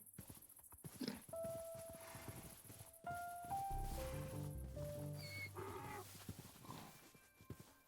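Donkey walking in the Minecraft video game, a series of light hoof clip-clops with a brief animal call, layered over soft game background music and faint ambience.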